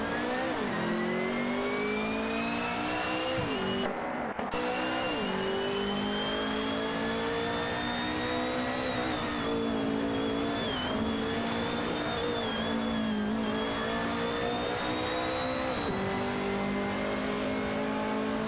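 Simulated race cars in an AI racing video game roar continuously with engine revving and pitch shifts as they jostle for position, a steady dense drone of multiple cars throughout with no voices.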